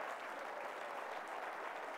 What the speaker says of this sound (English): Give him a hand clap of praise anyhow.